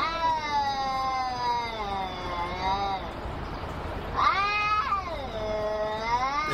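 Two cats, one gold and one black, yowl and caterwaul back and forth in long, wavering, rising and falling cries, loud and close, with a sharp upward squeal partway through.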